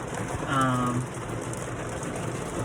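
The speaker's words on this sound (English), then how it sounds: "it is now absolutely dumping rain" Heavy rain pours onto a car parked at a golf course, a steady, dense hiss and patter heard from inside, with a brief tonal whine near the start and a voice faintly present.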